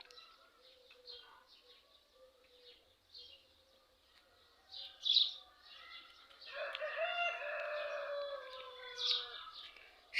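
Roosters crow repeatedly at some distance, their calls overlapping with other birdsong and clucking in an otherwise quiet outdoor setting.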